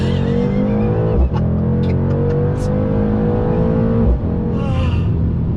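A 2020 Mercedes-AMG C63 S sedan accelerates hard on throttle, its engine note climbing steadily through the revs, loud and close, with two brief gear-shift dips along the way.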